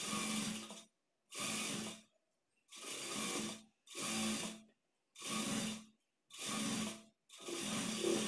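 Sewing machine stitching a blouse seam runs in seven short, even bursts, each under a second long and separated by brief silent pauses, close and clear.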